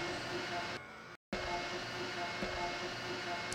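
A CNC lathe runs without coolant, spindle turning an all-thread rod as the parting tool moves into position, giving a steady mechanical hum and whir broken by a brief dropout, with a voice talking over it.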